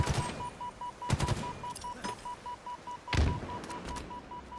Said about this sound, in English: Nice nade from Comp as he pushes down